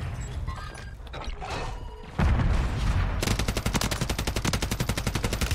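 Rapid automatic gunfire in the video game Warzone 3, a loud sustained burst of evenly spaced shots after a heavy thump, with earlier mixed game action and effects underneath.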